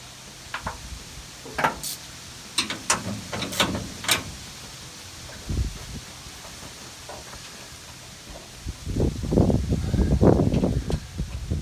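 A ratchet clicks in short bursts while a bolt is loosened on the starter of a 1969 Dodge Charger, with metallic clacks and tool rattles close by, then a longer run of quicker ratcheting near the end.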